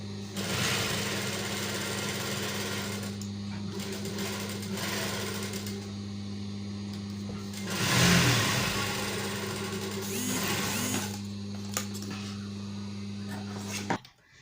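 A sewing machine stitches a dress's bodice to attach black ruffle trim, running as a steady, close mechanical whir for most of the clip with brief changes in pace.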